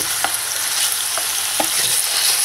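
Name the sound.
minced chicken frying in pan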